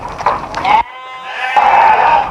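Ewes bleat loudly and close by during pre-breeding treatment, one long wavering cry followed by a second, with farm background noise and brief talk in between.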